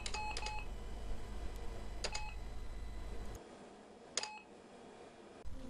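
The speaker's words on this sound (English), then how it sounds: "if you're in DOS shell and you press the plus button, it makes beeping noise" An AT&T 486 PC in a DOS shell gives short electronic beeps after the plus key is pressed, in a few separate groups of bright tones over a steady low machine hum. There is no speech.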